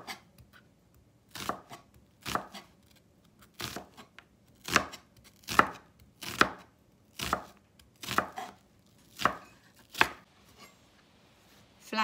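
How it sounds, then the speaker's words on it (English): Onion is being chopped with a knife on a cutting board, about a dozen crisp, evenly spaced taps that come close and clear in a quiet kitchen, with no talking. "So first of all, we're gonna go in and chop our onion."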